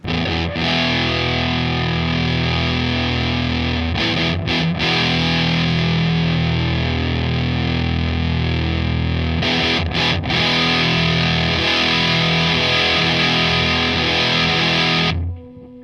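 An electric guitar played through EHX Triangle Big Muff and Mooer Triangle Buff fuzz pedals at high sustain makes thick, saturated chords that ring on loud and dense, broken by a couple of short gaps, then cut off at the end.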